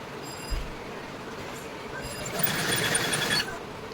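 A sewing machine stitches saree fabric into an outfit in short, faint runs. A steady, brighter burst of stitching comes near the end.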